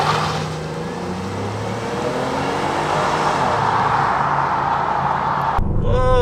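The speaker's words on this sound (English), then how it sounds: "I am in the Impala. Classic American sedan, but this may surprise you, a classic front-wheel drive American sedan. So let's just floor it" A 2015 Chevy Impala front-wheel-drive sedan accelerates hard at full throttle, its engine note rising loud and steady for about six seconds before cutting off abruptly near the end.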